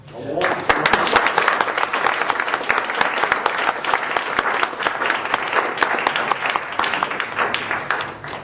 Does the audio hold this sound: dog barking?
no